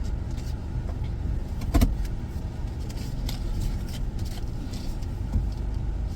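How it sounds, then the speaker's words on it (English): A truck pulling up close behind a car, heard from inside the car as a steady low rumble of vehicle noise with one brief louder thump partway through. "The way this truck just pulled up behind me, y'all, was so disrespectful."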